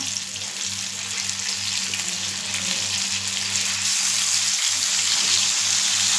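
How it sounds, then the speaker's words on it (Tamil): Fish sizzles loudly and steadily as it fries in a pan after being flipped, a dense, constant crackle close up with no voice. "இப்போ மீனை பிரட்டி போட்டுக்கலாம்."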